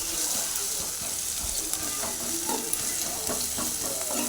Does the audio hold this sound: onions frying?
yes